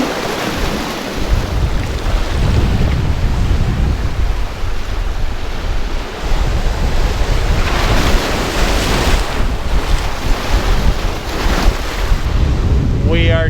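Ocean waves wash against the shore in Barbados, a loud continuous roar of surf with heavy wind buffeting the microphone throughout, and no voices.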